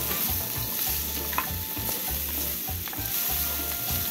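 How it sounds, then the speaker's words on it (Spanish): Chopped onion fries in a pan and is stirred, making a steady, close sizzle with regular scraping strokes of the utensil. "entonces ahorita sí ya le voy a agregar la cebolla"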